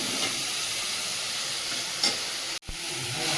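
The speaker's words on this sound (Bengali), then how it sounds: "এর মধ্যে আদা রসুন আর কাঁচা লঙ্কা পেস্ট করে রেখেছিলাম দিয়ে দেবো।" Onions frying in oil in a new kadai with ginger, garlic and green chilli paste give a steady close sizzle and hiss, broken by a sharp clatter near the end.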